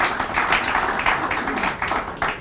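An audience at a county forum on transit-oriented development in Prince George's County gives a round of applause. The steady, moderately loud clapping lasts the whole moment, with no voices over it.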